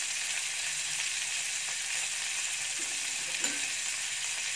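Garlic cloves fry in oil in a kadai while kadai paneer gravy is made, giving a steady, even sizzle with a faint clink or two, close and continuous.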